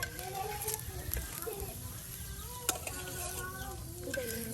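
Shrimp fritters (chingri bora) frying in hot oil in a village kitchen in Mymensingh, a steady soft sizzle with occasional stirring clinks, running under someone talking.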